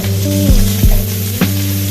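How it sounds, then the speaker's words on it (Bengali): Potatoes fry in oil with a constant sizzle, punctuated by a few clanks of a utensil stirring against the pan. "এবার আলুটা কিছুক্ষণ ভেজে নেব, যতক্ষণ না একটা হালকা লাল ভাজা চলে আসছে।"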